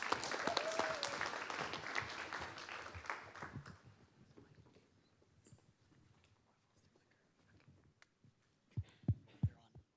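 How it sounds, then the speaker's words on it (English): An audience applauds as a team is welcomed onstage at a spring challenge event, the clapping loud at first then fading away after a few seconds, followed by quiet room tone and a few soft thumps. "Give them a big round of applause."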